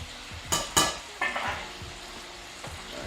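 Meat searing in a hot pan while pasta cooks, with a couple of sharp sizzling bursts and stirring scrapes over a low, steady frying hiss.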